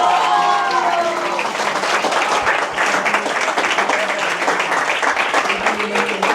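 Steady, dense audience applause fills a stage event after a recited poem, a continuous patter of many hands clapping at even loudness, with faint voices briefly audible at the start.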